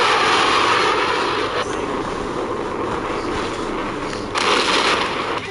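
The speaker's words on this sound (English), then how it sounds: "The AC-130. This time, however, it's incredibly strong." An AC-130 gunship aircraft in a video game gives a loud, constant roar of droning engine noise throughout, with brief bursts of added hiss, close and overpowering.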